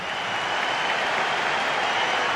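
A stadium crowd roars and applauds in the EA Sports FC 26 football game, a dense, steady wall of cheering noise that holds loud throughout without any talk.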